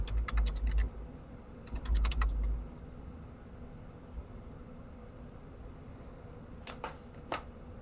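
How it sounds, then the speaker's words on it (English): Computer keyboard typing in two short, quick bursts of clicks near the start, close and fairly loud, followed by a few isolated key taps over a quiet hum during a game stream. "I just heard you typing."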